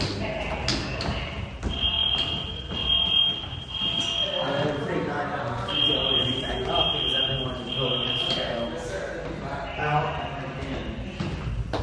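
A building fire alarm sounds during an early-morning evacuation of a residence commons. Repeated high electronic beeps come in bursts, and a spoken evacuation announcement plays over and between them.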